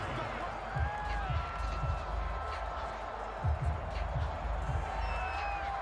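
A Baltimore stadium crowd in Madden NFL 22 keeps up a steady roar of cheering through the whole stretch, with low rumbling swells rising now and then, while a commentator talks over it.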